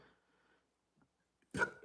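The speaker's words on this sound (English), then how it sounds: "Oh, excuse me, pepper burp." A single loud, short burp after eating superhot peppers, bursting out abruptly near the end following a stretch of near silence.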